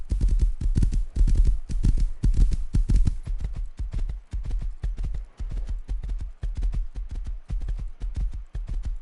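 In the Rust video game, a horse's hooves clip-clop in a quick, steady rhythm, close and fairly clear, with no talk over them.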